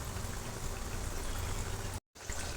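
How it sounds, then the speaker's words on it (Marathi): Coriander vadi deep frying in hot oil, a dense, steady crackling bubbling sizzle held close and loud throughout, with a brief dead gap near the end before the frying noise resumes. "मी आता डीप फ्राय करत आहे."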